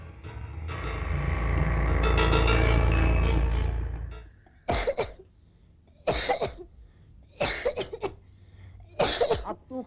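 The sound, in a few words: coughing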